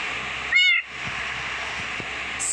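A Minecraft cat lets out a single short, loud meow over a steady background hum, with no talking.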